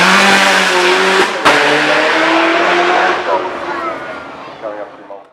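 A Mercedes-AMG GT R Roadster at the Goodwood Festival of Speed, loud engine roar with tire squeal and a sharp bang, fading as it pulls away, with someone talking over it.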